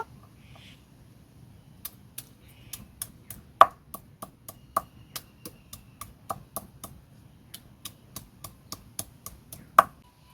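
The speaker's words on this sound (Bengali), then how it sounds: "কেটে রাখা পেঁয়াজ বেটে নেব" Chopped onion is ground into a paste for meat khichuri, producing a steady run of sharp, close clacks at a regular rhythm with a few louder knocks.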